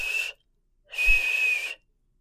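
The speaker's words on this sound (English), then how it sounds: "I can barely whistle." A person attempting to whistle, giving two breathy whistled notes, a short one and then a longer steady one, close and fairly quiet, with silence between.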